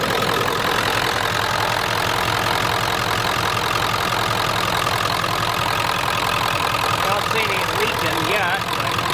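A Ford F-250 with a 7.3 IDI diesel engine runs at a steady idle, a continuous rumbling drone with a faint knock, close by with occasional talk over it.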